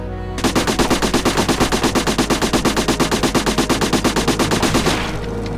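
Sustained automatic gunfire from a firearm in the World War II tactics game Silent Storm: one loud, steady, evenly spaced burst of rapid shots lasting about five seconds, heard alone.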